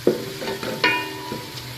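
Onions frying in a cooking pot for chana dal, with spoon stirring and scraping in a few short, close knocks over a soft sizzle.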